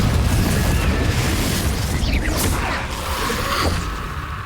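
A Confringo blasting spell in Hogwarts Legacy bursts in a loud, dense explosive roar with whooshing sweeps, sustained for several seconds and close up.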